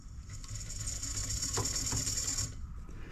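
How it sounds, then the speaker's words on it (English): A wire stripping machine is turned counterclockwise, giving a close, continuous ratcheting click of pawl and gears for about two and a half seconds before stopping. "So let's back this off by going counterclockwise a full turn."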